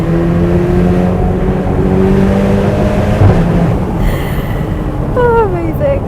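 Ferrari engine at Goodwood Festival of Speed revs hard, a loud, sustained, rising mechanical roar with whirring tones, close and continuous, while a person talks over it.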